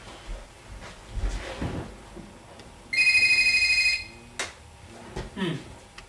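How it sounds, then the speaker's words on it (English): A telephone rings once with an incoming call, a bright electronic trill lasting about a second, surrounded by rustling and household clatter. "he receives an unexpected phone call"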